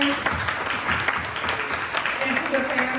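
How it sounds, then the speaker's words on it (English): Audience at a ceremony honouring seniors breaks into sustained applause, a dense wash of many hands clapping together, with a voice speaking over it. "Can we give another round of applause to all of our seniors"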